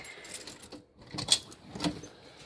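A bunch of keys jangling nearby, a few light metallic clinks and rattles in short bursts over quiet room background, with no talk.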